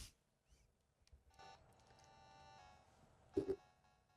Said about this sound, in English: Okay, I guess I'll make a phone call.